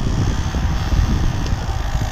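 Small aftermarket cabin fan fitted inside a Tata Nano, running at its full speed setting, giving a steady close-up whirring hum with a low rumble, continuous and even throughout with no talking.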